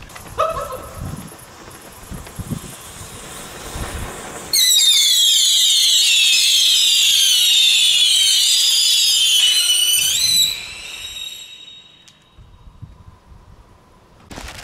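Consumer fireworks go off outdoors, with a long run of shrill whistling, crackling effects lasting several seconds amid scattered bangs and pops before and after.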